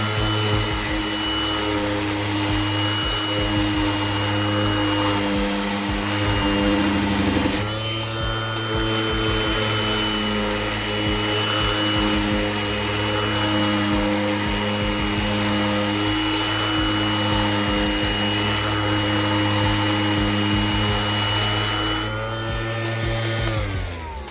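A Kobalt 24V brushless random orbital sander with dust management, running 60 or 80 grit, whirs steadily against a wood piece at close range, giving a continuous buzzing hum that shifts pitch briefly mid-run, with no voices.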